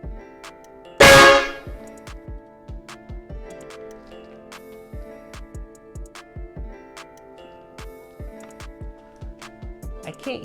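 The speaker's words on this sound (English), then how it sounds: "it should activate the solenoid, producing the train horn sound" A Vixen VXH4124XLB train air horn on a 1952 Chevy 3100 gives one loud blast of about a second inside a closed garage. Rhythmic ticking and clicking continue around it.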